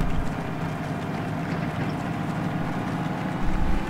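LAV Jackal armored vehicle with a turbo in a video game, a steady droning engine rumble with a faint whine, constant and fairly loud with no talking.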